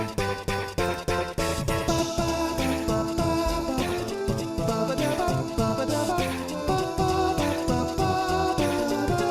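An a cappella rendition of the Sonic 1 Spring Yard Zone theme, layered voices imitating the melody, bass and percussive beat in a steady, dense groove.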